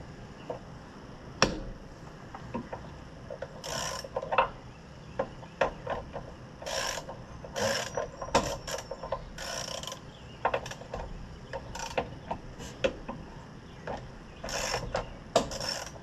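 A hand ratchet works on the brake cover bolts of an Oliver 1650 tractor, giving repeated close clicking bursts and metallic clanks in uneven runs throughout, with no talking.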